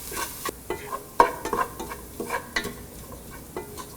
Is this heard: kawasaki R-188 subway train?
no